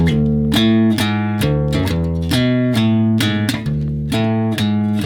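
Bass guitar playing a steady run of repeated notes, plucked with the thumb to imitate a pick, giving bright, sharp attacks in a driving eighth-note rhythm, close and loud with no talking.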